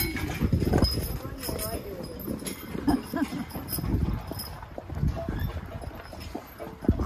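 Hooves of a double black Percheron horse team clip-clop steadily while drawing a wagon on a street ride, with people talking over the hoofbeats throughout.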